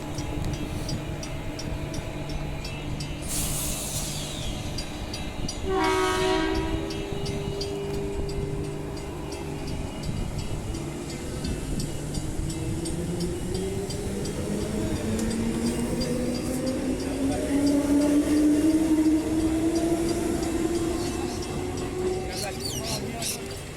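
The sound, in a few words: train departing station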